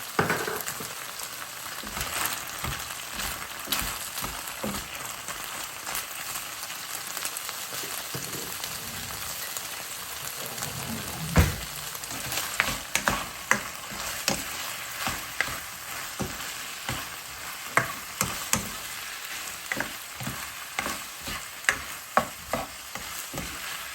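Onions frying in a pan for beef with ampalaya, a steady close sizzle with repeated scraping and clacking from stirring, running continuously without voices.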